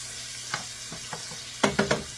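Meatballs frying in a pan give a steady close sizzle, with a few louder scraping stirs near the end.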